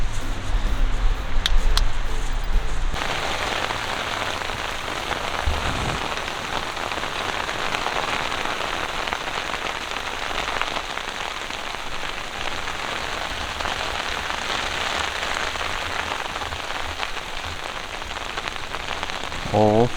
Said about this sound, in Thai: อยู่ดีๆก็ฝนตกครับ